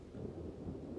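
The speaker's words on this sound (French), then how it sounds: "Une tempête." Thunderstorm sound effect in a spoken adventure tale about a storm at sea: a dark, steady low rumble of thunder with no voices.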